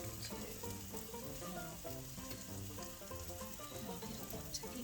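A couple of eggs frying in a pan, a steady close sizzle and crackle with small pops, no voices over it.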